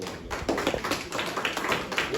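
An audience gives a round of applause at a community talk in Benton Harbor, a steady spread of dense clapping with cheering voices mixed in, fairly loud throughout.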